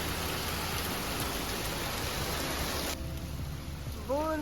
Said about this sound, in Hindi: उसके बाद ज़ोरों से बारिश शुरू हो गई।